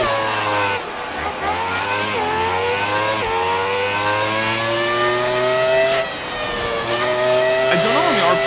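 An F1 2018 race car in the video game revs continuously, its engine pitch climbing through gears in repeated rising sweeps, loud and up close, with a voice briefly audible at times.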